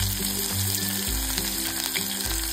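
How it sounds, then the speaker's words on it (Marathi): Finely chopped onion, tomato and green chillies sizzle loudly and constantly in a pan for an idli upma, a dense close crackle that stays even throughout with faint stirring and no speech. "अगदी बारीक चिरलेला कांदा टाकलेला आहे, बारीक चिरलेला टोमॅटो टाकायचा आहे, 2-3 हिरव्या मिरच्या चिरून टाकलेल्या आहेत"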